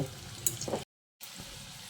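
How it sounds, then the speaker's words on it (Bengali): Soybean kebabs frying in a pan over low to medium heat, a faint steady sizzle with light stirring and turning noises, cut by a short silence partway through. "এই কাবাবটা ভাজতে কিন্তু খুব বেশি সময় লাগে না"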